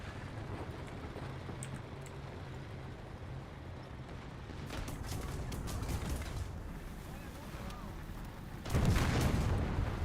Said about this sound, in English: Oh, I'm being strafed by an air vehicle because someone's pissed.